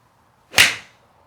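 A TaylorMade iron strikes a golf ball in a single sharp, crisp impact that rings out loudly and fades quickly, with nothing else around it.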